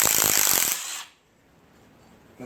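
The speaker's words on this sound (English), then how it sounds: "But now the flywheel bolts are coming out." An impact wrench rattles loudly at close range, removing flywheel bolts on a Mazda Miata during a clutch job, a dense burst lasting about a second before cutting off to quiet.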